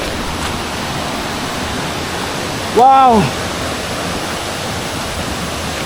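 A forest river flows with a steady, loud broadband rush close to the microphone, continuing throughout while one person gives a brief excited exclamation partway through.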